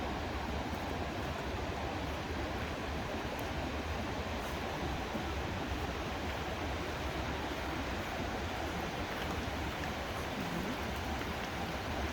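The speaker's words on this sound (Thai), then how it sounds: "ฝั่งนี้เป็นน้ำตก" A waterfall rushes beside an old stone mountain village in Ticino, Switzerland, a dense unbroken roar of falling water that stays even and fills the whole scene.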